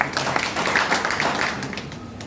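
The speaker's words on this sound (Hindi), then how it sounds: "चलिए, सर के लिए जो है जोरदार ताली बजा दीजिए।" An audience at a public gathering in Madhepura claps steadily in a dense, continuous round of applause, lively and close, with no speech over it.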